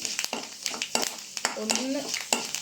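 Fenugreek seeds and asafoetida roasting in a pan give a close, light sizzle with quick scraping stirs and small clatters, while a voice talks briefly over them.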